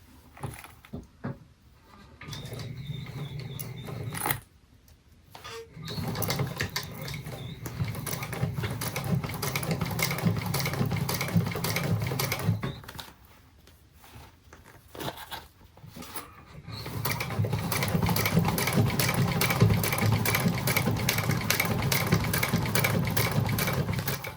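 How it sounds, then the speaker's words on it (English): A sewing machine top stitches a laptop bag in long runs of rapid, steady mechanical chatter, broken by brief pauses and small handling clicks, close and clear with no talking. "We're going to top stitch across, moving our strap connector out of the way as we come closer to it."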